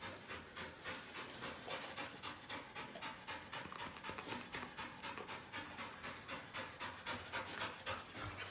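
A tired dog pants rapidly and rhythmically up close, quick breathy huffs repeating steadily and fairly quietly, with no talk.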